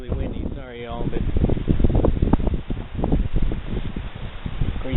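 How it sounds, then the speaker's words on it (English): Strong wind batters the microphone outdoors in a cattle pasture, producing heavy, gusting low rumble throughout while a person talks over it. "it's going to be really windy"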